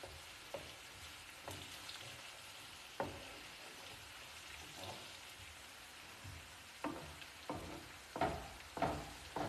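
Onions and garlic sauteing in a pan, a soft steady sizzle broken by several louder stirring scrapes and crackles, close and fairly quiet.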